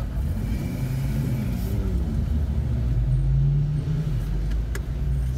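From inside a car on the Nordschleife, a steady loud engine drone and road rumble fill the cabin, while another car, a Porsche or BMW M2, closes in from behind, its rising engine tone layered under the in-car noise.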